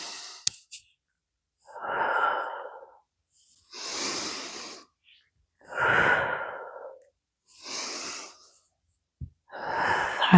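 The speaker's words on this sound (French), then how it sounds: "Et on respire." Slow, deliberate breaths during a Pilates exercise, five or six long inhales and exhales in an even rhythm with quiet pauses between them, close and clear.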